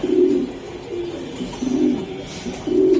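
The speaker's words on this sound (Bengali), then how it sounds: "কবুতর সুপার কোয়ালিটির কবুতর" Racer pigeons give low, soft cooing in repeated rolling phrases, close and steady, with no talk over them.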